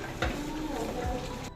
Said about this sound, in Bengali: পটল ভাজা চলছে